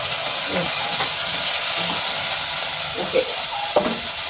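Curry leaves, garlic, fenugreek and tomato sauté together in a pan for a fish curry, a loud, constant close sizzle with scattered light stirring clicks.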